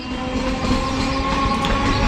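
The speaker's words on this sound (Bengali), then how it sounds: "এক নম্বরে গেদে ক্রস করছে" Gede local train crossing at busy Dum Dum junction, a loud continuous rumble of wheels and carriages with a sustained tonal hum, close by and building slightly toward the end.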